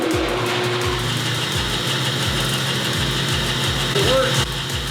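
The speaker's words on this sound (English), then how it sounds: "just fired it up, and it works" Vintage 20-inch bandsaw running with the blade on after starting up, a loud steady low rumble with a regular thumping pulse throughout, close and without talk.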